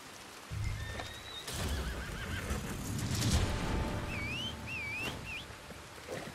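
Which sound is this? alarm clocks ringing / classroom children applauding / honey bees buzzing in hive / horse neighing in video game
horse neighing in video game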